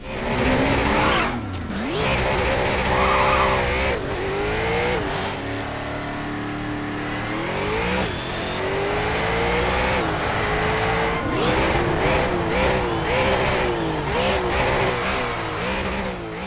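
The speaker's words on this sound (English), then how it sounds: "They also suffer from mostly recycled car sounds, so you'll end up with a Bugatti Veyron, McLaren F1 and Cerberus P12 sounding like they have a V8 from a Koenigsegg" Arcade racing game GRID cars roar with recycled engine sounds, shifting revs, squealing tires and skids as they race past, loud and continuous with no talk.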